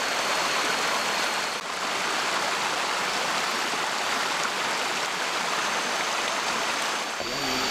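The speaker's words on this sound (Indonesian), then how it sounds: "Ada air sungai mengalir kayak gini tuh, seneng, asik." River water flowing on a farm, a continuous loud rushing, splashing wash that stays steady throughout, with no voices over it.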